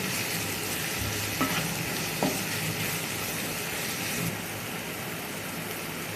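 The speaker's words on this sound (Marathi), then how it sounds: "मीठ टाकल्यावर आपण चांगलं घेऊ टॅमॅटो चांगला परतून घेऊ" Tomatoes sautéing with salt in a pan for a bombil and potato curry, a dense, steady sizzle with stirring scrapes and a couple of sharp utensil clicks, easing slightly toward the end.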